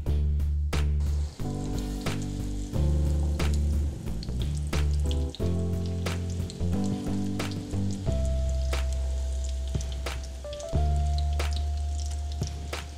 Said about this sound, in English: I'm gonna fry one side, and when that's nice and fried, I'm gonna get in there and fry the other side